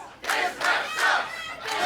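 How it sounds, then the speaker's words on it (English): Wrestling crowd at a live show jeers a newly introduced referee, a loud sustained wall of booing and shouting voices that swells in waves over about two seconds. "he's already being vilified by this crowd"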